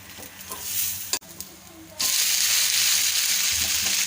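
Poha dosa fries in oil on a pan over medium flame, a steady loud sizzle that jumps up sharply halfway through as fresh oil hits the hot pan, with a brief clatter before it.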